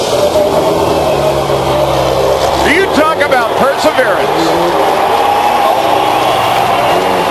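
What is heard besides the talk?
wrecked rallycross car engine revving while backing up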